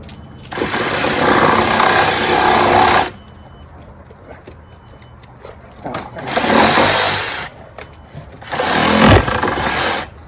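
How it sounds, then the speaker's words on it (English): A Sawzall reciprocating saw cutting a wooden pole for a homemade rabbit trap: a loud, close, buzzing rasp for about three seconds, a pause, then two shorter bursts of cutting. "Now we're gonna get the Sawzall."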